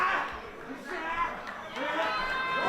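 Wrestling crowd at a PWÖ event making steady noise and cheering throughout, a busy mass of voices with no clear peaks, under a commentator talking.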